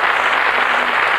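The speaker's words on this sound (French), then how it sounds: "on peut les applaudir" Audience applause for jury members at a 1996 model competition, a short steady wash of clapping filling the room at even loudness.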